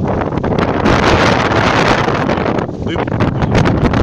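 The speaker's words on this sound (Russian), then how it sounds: "Вот сейчас поднялся сильный ветер." Strong wind roars steadily across the microphone at a large unauthorized dump near Kansk where slab wood is burning, a loud, continuous buffeting rush with brief lulls.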